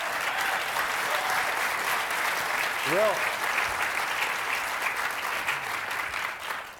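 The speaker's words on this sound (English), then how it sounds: "Can I just see, just by hands, your applause?" An audience at a green jobs conference breaks into sustained applause, a dense steady roar of clapping throughout while a voice speaks briefly over it.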